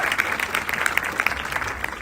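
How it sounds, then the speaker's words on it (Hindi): Audience applause at a live comedy show fills the space, a steady wash of clapping with sharper individual claps popping out, held at an even level throughout. "तालियां दे सकते हैं"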